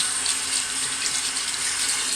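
A bathroom tap runs in a steady close splash while a face is lathered with Barbasol shaving cream. Nobody speaks.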